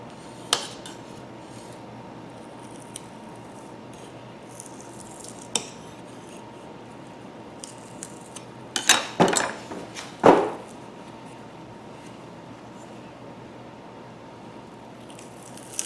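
A putty knife worked against a wooden jewelry box drawer, giving sparse light taps and clicks, then a brief cluster of scraping, clattering knocks near the middle, close up against a quiet room.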